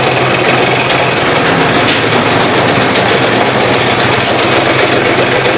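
A Vespa P200E scooter engine idles loud and close, a dense continuous rattling two-stroke drone that holds steady throughout with no talk over it.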